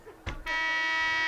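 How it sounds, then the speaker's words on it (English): Scoreboard buzzer ending the first half of a girls' varsity lacrosse game sounds a loud, sustained harsh tone after a brief thump, carrying steadily to the end over faint gym ambience. "And there's the buzzer for the end of the first half."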